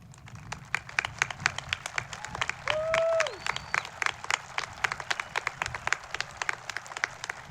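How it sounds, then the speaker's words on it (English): Audience at a West Bend East 2020 graduation ceremony applauding military members: sparse, distinct claps spread across a large space, with a short whistle or cheer partway through. "Let's give them a round of applause."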